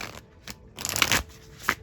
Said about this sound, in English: as I shuffle my tarot deck to keep going here